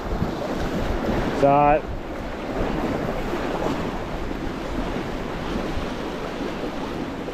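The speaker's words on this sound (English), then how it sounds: "that wind's horrible. Bloody relentless." Strong, relentless wind roars across the microphone outdoors at a bass fishing spot by the water, a steady loud buffeting rush; someone briefly says a word near the start.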